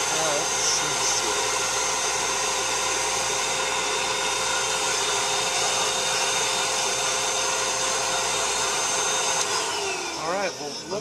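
A Presto K8 lathe cuts a groove into a plastic picnic plate record, producing a loud, continuous whirring hiss with a steady motor hum that shifts near the end.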